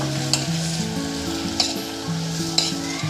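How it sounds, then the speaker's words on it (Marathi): Chopped pumpkin is stirred into sizzling dalcha masala, a steady close frying hiss with a few scraping stirs of the spoon at a regular pace over soft background music. "त्यानंतर आपल्याला हा चिरलेला भोपळा टाकून घ्यायचा आहे. त्याला एकजीव करायचं."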